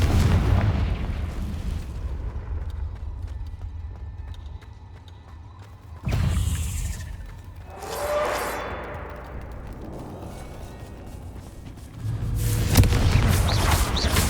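Confringo explosion spell cast in the video game Hogwarts Legacy, a sudden booming blast followed by a rumbling, crackling tail, with a second heavy burst near the end over low ambient game noise.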